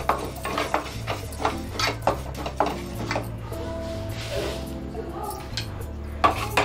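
Black urad dal and sesame seeds dry-roasting in a pan, stirred continuously, giving steady scraping and rattling with light clinks against the metal, close and fairly loud over a constant low hum.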